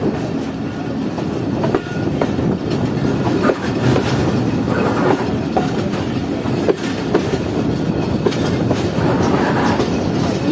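A passenger train rolls along a main line in Pakistan between Attock and Jand stations, heard from on board as a steady, loud rumble with rhythmic clickety-clack of wheels over rail joints throughout.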